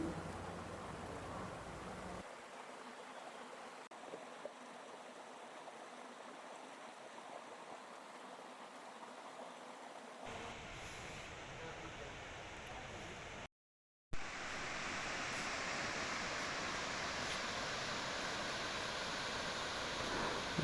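A waterfall at a Kodaikanal resort gives a steady, faint, broadband rushing roar that continues throughout, briefly cutting out near the middle and then returning slightly brighter.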